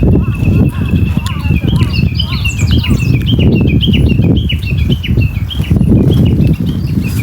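Birds chirp in a busy, overlapping chorus at a vegetable garden, with wing flaps and rustling close by and voices talking over the birdsong throughout.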